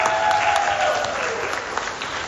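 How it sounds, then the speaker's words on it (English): An audience applauds after a children's performance on stage, steady dense clapping that carries evenly through the whole stretch at a moderate, fairly close level. "let's give them a big round of applause"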